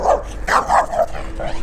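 A dog barks at a scooter rider on an off-road ride, several sharp close barks and yips in quick succession over about a second and a half, with a steady low rumble of wind or motor underneath.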